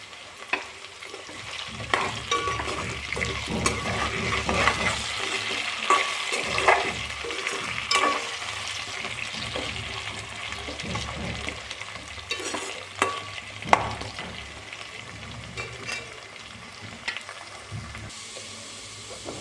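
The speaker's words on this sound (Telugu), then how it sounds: "ఆలు ముక్కలు ఆల్మోస్ట్ ఫ్రై అయిపోయాయి." Potato pieces frying in a pan, a continuous close sizzle with scraping and clinks of stirring, busier in the first half and settling toward the end, with no talking.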